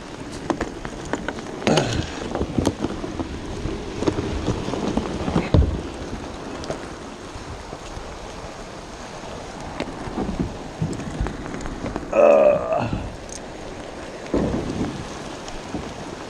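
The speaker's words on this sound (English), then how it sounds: "Getting rained on." Steady rain pours down in a broad hiss, with occasional low rumbles of thunder rolling in and a few heavier bursts of splashing.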